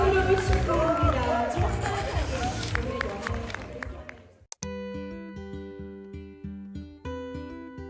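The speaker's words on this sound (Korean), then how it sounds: "자, 박수 보내주시기 바랍니다." An audience claps for a student team at a mock fair trade commission competition, a dense burst of applause and crowd noise that fades out and gives way to bright music.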